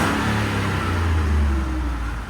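A high-mileage Ford Raptor truck engine with an exhaust leak drones steadily on a cold start, a low, rough rumble throughout, loud and close, with no speech over it.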